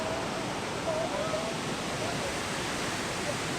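A steady broadband rush of falling water from a waterfall near Hilo on the Big Island of Hawaii, continuous and fairly loud throughout with no breaks.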